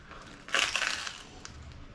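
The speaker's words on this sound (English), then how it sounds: "I love to use my knife here. As you can hear, cuts right through." A single short crunch as a knife cuts through the crisp crust of a French bread pizza, quiet and close, followed by a faint tail of crackling.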